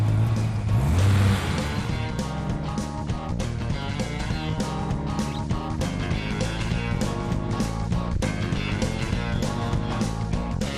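A Dodge Viper GTS engine roars loudly and continuously at high revs, a dense, close mechanical growl sustained throughout with slight fluctuations, no talking heard.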